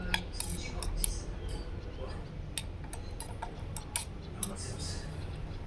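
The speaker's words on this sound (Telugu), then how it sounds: "ఇలా మిక్స్ చేసుకుంటూ కొంచెం సేపు మిక్స్ చేసుకోవాలి." A spoon clinks and scrapes against a small toy-sized kitchen pot while ingredients with turmeric are stirred, light metallic ticks repeating irregularly over a steady low background hum.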